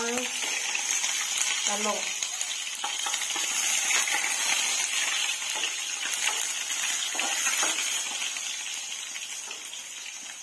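Food frying in a pan, a loud, steady crackling sizzle running throughout at close range, with a brief spoken word near the start.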